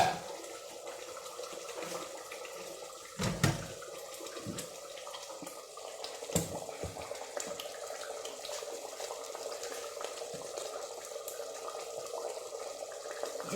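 Boiling water poured for Moroccan couscous, a soft steady trickle and splash running throughout at low level, with a couple of brief clunks near the start.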